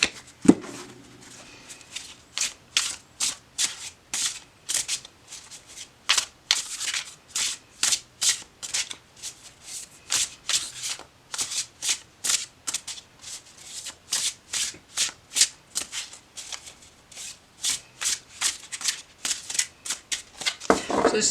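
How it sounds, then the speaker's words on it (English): Tarot cards are shuffled repeatedly by hand, many quick crisp riffling bursts in a steady rhythm, close and clear, with no talking. "So then I'll usually shuffle them between each card."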